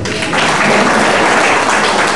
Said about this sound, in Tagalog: Palakpak muna kayo